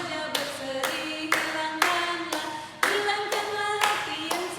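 Hand clapping keeps time with a cheerful Sunday school song, steady, fairly loud claps landing in a regular beat over a sustained singing melody.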